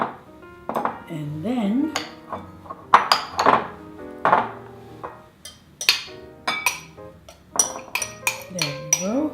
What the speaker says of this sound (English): I'm cutting the butter in. The butter is nice and room temperature. Cut it in little pieces.